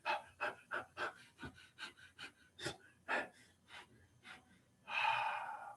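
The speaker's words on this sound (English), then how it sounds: "What you just witnessed was me catching my breath" Person panting and gasping to catch their breath during a panic attack, a quick run of close, rhythmic breaths ending in a longer exhale, with no talking.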